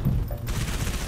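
Rapid, loud bursts of automatic gunfire in the video game Halo 3: ODST, a dense, close volley with no gaps across the short stretch.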